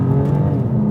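BMW M2 Competition straight-six engine holding a steady, strong growl, loud and close for a brief moment with no talk over it.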